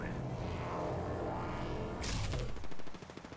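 Gunfire in a battle royale video game crackles in dense bursts through busy game noise, with a louder burst near the end and no talk over it.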